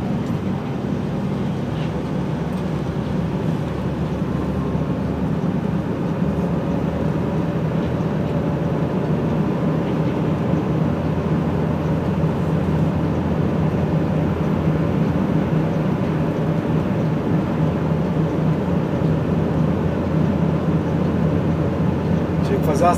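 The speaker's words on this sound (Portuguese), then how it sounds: "Com a primeira marcha aqui, vamos subir." A delivery truck in first gear climbs uphill toward an event farm, its engine a steady low droning rumble that holds at an even level throughout.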